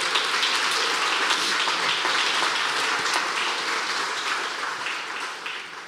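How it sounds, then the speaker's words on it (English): Audience at a celebration of fifty years of career and technical education gives a round of applause, a thick, continuous patter of clapping from many people that slowly tapers off near the end. "I think that's worthy of a round of applause."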